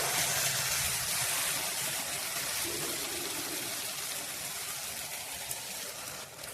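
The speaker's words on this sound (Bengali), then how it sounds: "এখন দুধটা ভিজানো ছিল, এখন ঢেলে দেব।" Milk is poured into a cooking pot of tomato and coconut mixture, a continuous close liquid splash and hiss that slowly tapers off.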